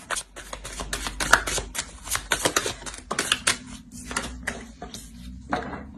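Oracle cards being shuffled and drawn, a dense run of close crisp flicks and riffling snaps with brief pauses, loud and near with no talk over it.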